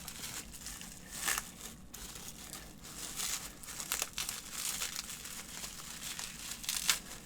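Bubble wrap crinkles and crackles as it is handled and tugged free from tape on a cardboard box holding 28mm WW2 Renault R35 tank miniatures, a steady close rustling with a few sharper tearing bursts.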